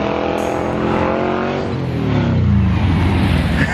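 A loud Volkswagen Beetle drives past, its engine roaring and rising then dropping in pitch as it goes by, close and prominent against the outdoor street background.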